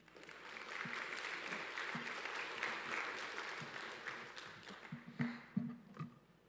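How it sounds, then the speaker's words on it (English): Graduates at a convocation ceremony applaud themselves in a large hall, a soft wash of clapping that swells and then breaks into scattered louder claps and a few thumps near the end. "Give yourself a round of applause."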